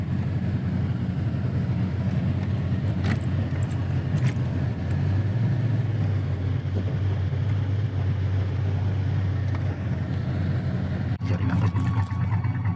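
An LS-swapped Chevy Box car drives along, its engine droning in a steady, loud, low cabin hum with road noise throughout and a few faint clunks near the end.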